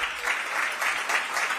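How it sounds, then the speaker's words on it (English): An audience at a Washington DC healthcare career grant announcement applauds a guest speaker, a short, moderately soft stretch of steady clapping from the room. "Give her a big round of applause."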